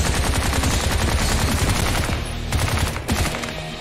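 Rapid bursts of automatic gunfire from the futuristic shooter game Bright Memory, loud and close, nearly continuous for several seconds with a brief dip before a final volley.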